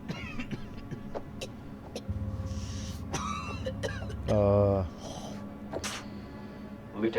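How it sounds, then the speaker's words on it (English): In the horror video game House of Ashes, a character gives harsh throaty coughs and throat clearing amid a low droning score, with speech around it. "That's a nasty cough."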